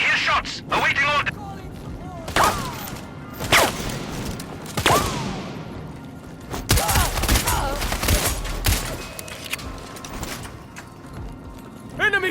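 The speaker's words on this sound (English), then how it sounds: "I hear shots." Gunfire in the video game Sniper Ghost Warrior Contracts 2: scattered sharp shots and bursts ring out at irregular intervals over a busy combat soundscape, with voices heard in the mix.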